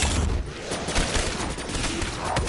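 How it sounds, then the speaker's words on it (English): Fireworks weapon in a zombie video game kills a large swarm, a dense crackling barrage of rapid pops and bursts filling the whole stretch without speech. "if you kill a big swarm of zombies with fireworks like I just did"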